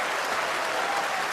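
Crowd at a snooker exhibition breaking into sustained applause, a thick, even roar of clapping that holds steady at full strength without pause.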